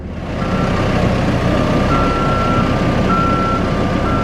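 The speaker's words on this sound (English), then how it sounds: "as he pulls the cable with the forklift" A forklift pulling conveyor belt cable on an industrial site, its reversing alarm giving a few evenly spaced beeps over a steady engine rumble, fairly close, no talking.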